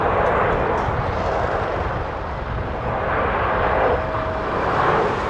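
Loud, steady roar of an Embraer airliner's jet engines on final approach to land at Toronto Pearson, a broad continuous rumble with a faint whine, swelling slightly toward the end.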